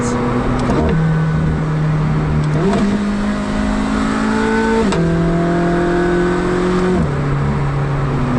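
A McLaren engine revs loudly with the rear window down, rising and falling in several strong swells that sit close and dominate the sound.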